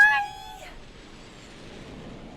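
A cat meows once inside Cyberpunk 2077, a short, close, harmonic cry that fades quickly and leaves quiet room tone.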